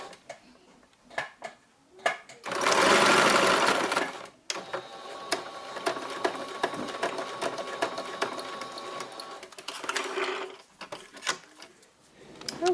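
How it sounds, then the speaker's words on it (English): A sewing machine stitches through a key fob in quick mechanical bursts, with one long loud run of stitching and shorter bursts after it, alternating between forward sewing and backstitching. "I sew all the way through and then backstitch all the way through"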